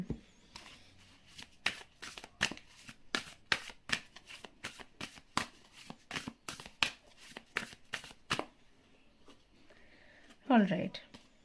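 Tarot cards are shuffled and riffled in a quick series of crisp, close flicks and snaps, followed by a brief soft rustle as cards are drawn near the end.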